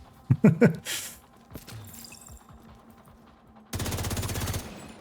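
Explosions from the Hollywood global event in an online video game: a few sharp bursts of blasts early, then a steady rapid rattling burst of gunfire-like pops near the end, loud and close.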